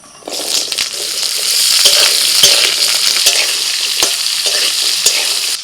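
Hog plums drop into a mustard-seed and dried-chili tempering in hot oil and burst into a loud, bright sizzle, with frequent spoon clacks and stirring scrapes throughout and no voices.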